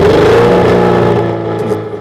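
A 2-liter engine in a 1981 Volkswagen Rabbit rally car revs loud and close, its pitch climbing then holding steady at a strong, continuous drone with no talk over it.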